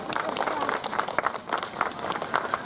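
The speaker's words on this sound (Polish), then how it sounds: "Wielkie brawa!" Steady audience applause at an amateur cabaret festival, moderately loud and continuous, with a voice talking underneath.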